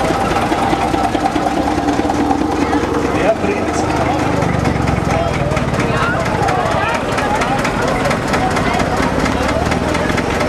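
A vintage tractor engine runs steadily throughout at an oldtimer meet on Hafnerberg, a loud continuous mechanical drone with people talking over it.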